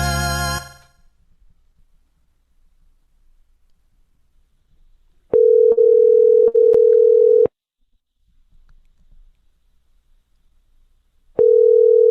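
A telephone line tone sounds while calling someone back: a steady, loud, pure tone in three bursts, two close together in the middle and one starting near the end, with a brief noise at the very start and silence between.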